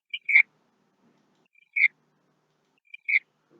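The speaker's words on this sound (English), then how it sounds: "If you play it, give a bird sound." A bird call sound effect plays from a Scratch program, three short, clear chirps spaced evenly about a second and a half apart against silence.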